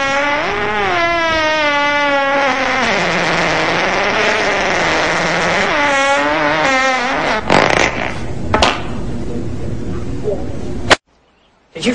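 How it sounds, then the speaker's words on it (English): A long, loud fart in a movie scene drags on for several seconds with a wavering, sliding pitch, followed by a few scattered noises and then silence. "Did you fart, Ray?"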